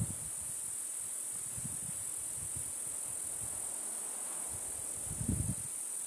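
Crickets chirp steadily outdoors on a hiking trail on Kárpathos, Greece, a continuous high shrill drone running the whole time, with faint footsteps and rustling underneath and a brief low thump near the end.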